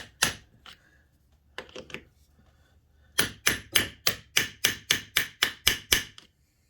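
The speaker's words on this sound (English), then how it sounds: "So I'm going to hammer all these in." A hammer strikes a socket in a few scattered taps, then a steady run of about ten evenly spaced, ringing blows, close and loud, driving engine seals into a Suzuki LT125.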